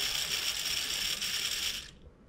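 A small DC motor with a bucket holding one screw runs with a steady, close, buzzing gear whir for about two seconds, then cuts off abruptly into near silence.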